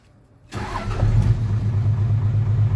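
A truck or car engine cranks and catches after an ignition key switch is wired in, then settles into a steady, loud idle with a low rumble, close by and with no voices.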